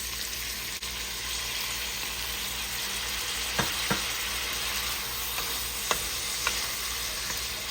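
Chicken meat frying in a pan with fish sauce gives a steady, even sizzle throughout, broken by a few soft taps and clicks of stirring, close and moderately quiet with no talking.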